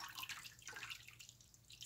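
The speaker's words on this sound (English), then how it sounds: "And you want to keep washing, like I said, until the water's clear." Flour dough being washed in a bowl of water to rinse out starch for seitan, giving a faint, continuous wet sloshing and trickling close by, with no talking.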